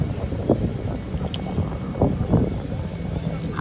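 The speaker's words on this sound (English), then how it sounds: "I could go without the wind blowing so much" Gusty fall wind blows at the beach, buffeting the microphone in uneven rumbling bursts, with a voice speaking over it.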